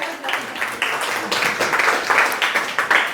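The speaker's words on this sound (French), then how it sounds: "On applaudit Walim encore une fois." An audience at a stand-up comedy show applauds, a short burst of brisk clapping from a small crowd that pulses unevenly, with a few louder claps standing out near the end.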